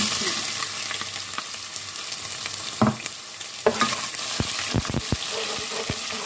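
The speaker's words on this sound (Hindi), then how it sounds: "प्याज को सौटे कर लेंगे।" Onions fry in a pan with cinnamon, curry leaves and cumin, a steady close sizzle marked by occasional scraping stirs and sharp clinks of a spoon against the pan.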